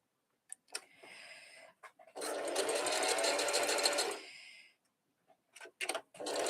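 A sewing machine stitches in short bursts, one sustained run of close, loud whirring between brief starts and stops.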